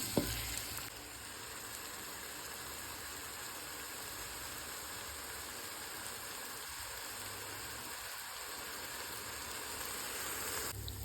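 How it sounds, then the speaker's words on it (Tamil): Tomatoes fry in oil for a chicken biryani, giving a steady, soft sizzle that holds evenly throughout with no talk over it. "தக்காளி நல்லா எண்ணெய் பிரிஞ்சு வர வரைக்கும் அந்த பச்சை ஸ்மெல் போகிற வரைக்கும் நல்லா வாட்டிடலாம்."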